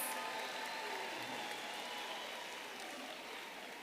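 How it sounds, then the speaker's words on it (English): Audience applause at a DUT autumn graduation ceremony for the Faculty of Management Sciences, a dense wash of many hands clapping at once, loud and sustained throughout and fading slightly toward the end. "Let's give them a big round of applause."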